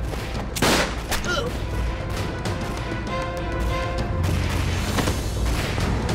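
Battle gunfire in a war action film about resistance against Japan, with dense overlapping volleys of shots and crashes running steadily throughout.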